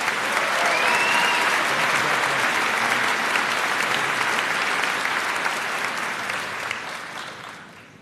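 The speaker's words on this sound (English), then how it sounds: "Evan, please honor him with a round of applause" A large crowd at a high school commencement applauds steadily, a dense wash of clapping that holds strong and then gradually fades toward the end.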